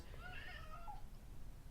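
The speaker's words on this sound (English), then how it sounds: "that's my cat, Jade." A domestic cat meows indoors, a short rising-and-falling call of about a second, clear and fairly close over a low background hum, with no talking.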